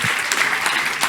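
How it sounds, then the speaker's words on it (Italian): An audience applauds at an Italian public event, a steady wash of clapping that fills the whole short moment without pause. "Allora un applauso."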